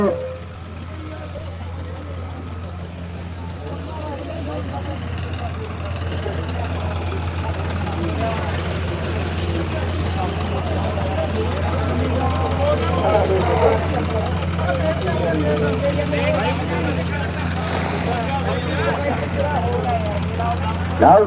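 A Sonalika-style tractor's heavy diesel engine, an Ultra 5 DI, drones loudly and steadily during a harrow-pulling contest at Sukha Singh Wala, its low rumble rising slightly as it labors, with a voice talking over it.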